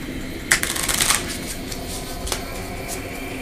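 A deck of Pandemic board game infection cards being shuffled: a brief, close riffling burst of crisp card flutters, then a single softer card slap against quiet room tone, with no speech.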